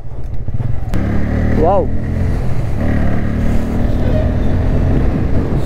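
Bajaj Pulsar N160 motorcycle riding at about 70 km/h, its steady engine drone and road rumble continuous throughout with a brief rising whine midway, while someone talks over it.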